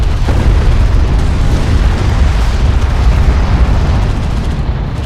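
Strike craft exploding in the desert real-time strategy game Homeworld: Deserts of Kharak, a loud, dense, rumbling blast that rolls on as a continuous roar of debris and fire.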